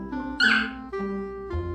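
A baby puppy whimpers and whines in high, plaintive squeaks, with one louder yelp-like cry followed by softer drawn-out whines, close by and with no talk.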